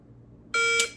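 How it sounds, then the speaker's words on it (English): A shot timer sounds a single sharp electronic start beep during a dry fire draw-from-holster drill, loud and close, cutting off abruptly after about half a second. "you pull the trigger as fast as you can from the beep"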